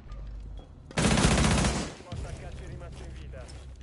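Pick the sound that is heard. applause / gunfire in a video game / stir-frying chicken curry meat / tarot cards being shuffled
gunfire in a video game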